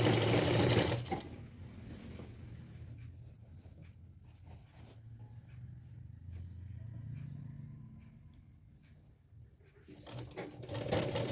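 A domestic sewing machine stitches a belt onto a ghagra skirt, running in bursts of rapid mechanical whirring with brief pauses, loud at the start and end and quieter in between.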